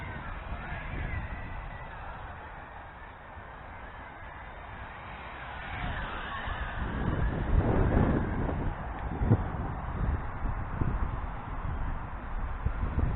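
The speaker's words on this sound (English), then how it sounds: "Fighting against the wind." Steady wind buffets the microphone outdoors while an i Drone i8H flies near trees, a continuous rushing roar that builds toward the middle and stays loud.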